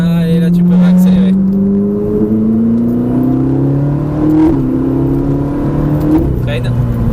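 A Ferrari 458 Italia V8 on a race circuit, engine rising in pitch as it accelerates, with a brief dip at a shift. It stays loud and close, with an instructor talking over it.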